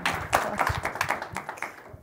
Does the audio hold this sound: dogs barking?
no